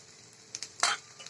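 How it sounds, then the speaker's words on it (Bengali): Boiled, finely chopped potatoes being stirred into a frying pan with browned onions for chira pulao, a steady soft sizzle broken by a few short scraping strokes, the loudest near the middle. "আলুগুলো দিয়ে অল্প নাড়াচাড়া করে নিয়েছি"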